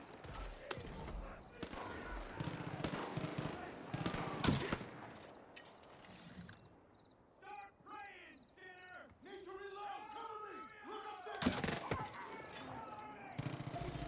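Gunfire in the video game Far Cry 5, with repeated bursts of shots and rapid fire early on that return later, heard beneath someone talking and reacting over the game action.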